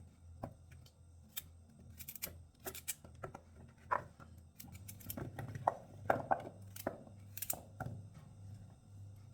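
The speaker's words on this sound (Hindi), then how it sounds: "अब हमने गाजर को 2 से 3 टुकड़ों में काट लेना है इस तरीके से और फिर इसी तरह सब गाजरों को काट लेना है" Carrots being cut into two or three pieces each with a knife for halwa, a quiet run of irregular sharp taps and clicks on a board, close by with no talking.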